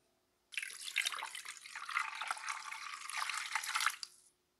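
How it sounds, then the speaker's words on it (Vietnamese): Fish rinsed under running tap water in a kitchen sink, a bright steady splashing gush that starts abruptly, holds for about three and a half seconds and then cuts off. "mình rửa vài nước cho cá sạch"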